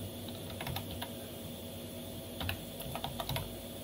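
Linux commands being typed on a computer keyboard to install software defined radio drivers, producing quick bursts of clicky keystrokes over a steady background hum.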